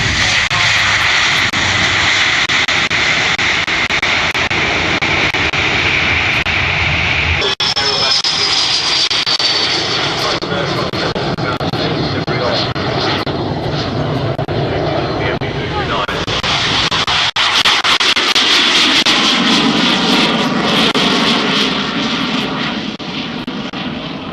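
An Airbus airliner flies a display at the Farnborough airshow, its loud jet engine roar continuous and shifting in pitch as it passes, with a commentator's voice faintly beneath.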